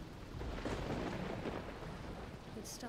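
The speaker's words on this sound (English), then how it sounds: "It's starting to rain." Steady rain in the video game Dragon Quest Treasures hisses across the whole moment, broadband and continuous, with a low rumble underneath suggesting distant thunder.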